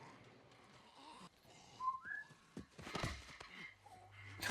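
A short sharp whistle from The Walking Dead season 8 episode 1, 'Mercy', two quick rising notes heard at moderate distance amid soft background sounds and muffled movement, with no one speaking.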